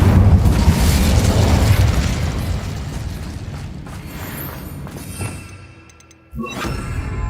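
The Incendio fire spell in Hogwarts Legacy erupts as a loud, roaring blast that slowly fades, then a second sharp burst goes off near the end. No voices are heard.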